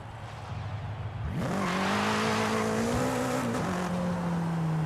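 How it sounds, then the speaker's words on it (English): A car drifts through a corner in Forza Horizon 5. The engine note rises, then holds a strained, sustained tone as the tires squeal through the slide, loud and close. "Get the power slide going. Well, a drift actually, not a power slide."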